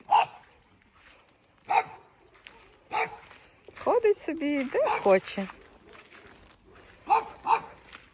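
A neighbor's dog barks a few times at a distance while a person talks over it, with a whining, yelping stretch in the middle.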